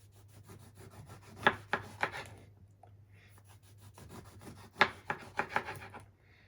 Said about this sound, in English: And now you want to start slicing them up.